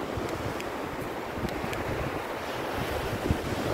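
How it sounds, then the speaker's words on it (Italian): Sea surf washing onto the Adriatic shore at Alba Adriatica, a steady broadband wash of waves with wind noise across the microphone, continuous and fairly close, with no voices. "Guardate, il mare è molto bello"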